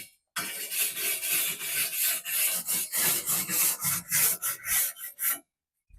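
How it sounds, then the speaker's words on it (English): A wire brush scrapes gunk off a metal bar during spring equipment cleanup, giving a run of rough, rasping strokes in a steady rhythm, close and fairly loud, with no talking. "Just take my wire brush and just kind of scrape it down, get the gunk off."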